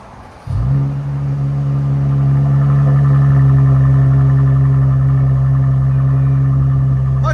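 A Mercedes E 400 3.0L twin-turbo V6 with an X-pipe exhaust fires up and holds a loud, steady, droning rev with strong low harmonics, sustained without break.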